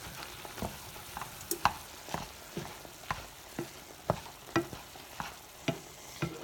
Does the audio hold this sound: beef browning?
yes